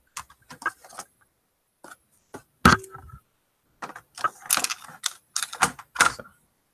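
An old computer keyboard with a ribbon cable is handled and inspected, giving scattered clicks, taps and rattles in irregular bursts with pauses between, fairly close and quiet.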